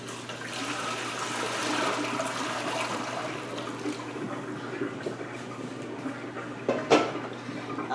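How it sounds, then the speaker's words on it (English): Water dumped out of a pot into a sink makes a steady, close rushing splash for several seconds, with a brief metallic clatter of the pot near the end. "I'll dump the water."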